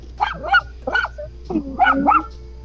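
A dog gives a string of close, loud barks and yips in quick bursts, some with a whiny rising pitch, in an indoor setting.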